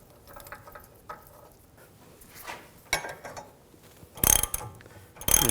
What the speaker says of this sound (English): You just tighten that down.